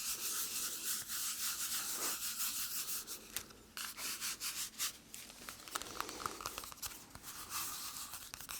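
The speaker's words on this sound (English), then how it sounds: "I'll erase all that now." A rubber eraser rubs back and forth across paper to remove pencil drawings of simple shapes, a steady close scratchy friction with brief pauses and quicker short strokes toward the end, soft and intimate.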